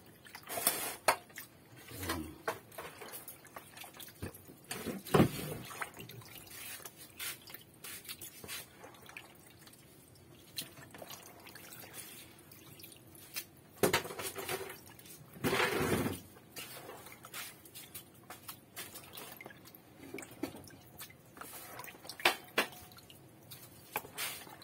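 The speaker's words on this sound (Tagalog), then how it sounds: "Para tumulo yung tubig." Water dripping from squid draining in a kitchen strainer, faint scattered drips and soft wet squishes at irregular intervals, with a few louder splashes, in a quiet room.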